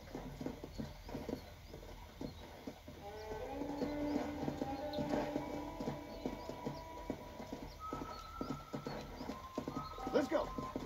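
In the video game Red Dead Redemption, a horse's hooves clip-clop in a quick, steady galloping rhythm, with a brief whinny and a voice over the hoofbeats.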